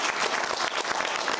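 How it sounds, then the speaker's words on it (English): Studio audience applause on a talk show, a brief dense burst of many hands clapping, steady and fairly loud with no voices. "a big round of applause, please."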